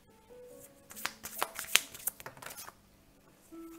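A deck of tarot cards that do not slide easily is shuffled by hand, giving close, irregular bursts of riffling and flicking in the middle of the clip between quieter moments.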